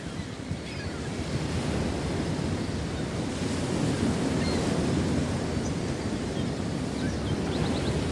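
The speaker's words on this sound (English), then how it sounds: "Very cool waterfall." A waterfall in the video game Baldur's Gate, heard as a continuous broad rushing roar of falling water that holds steady and fairly loud for eight seconds with no voices.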